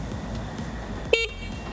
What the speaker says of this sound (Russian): громкий клаксон